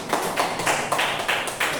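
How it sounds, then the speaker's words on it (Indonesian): A small group claps in a few rhythmic bursts, the applause rising and falling in regular waves at close range. "tepuk tangan untuk kelompok 1"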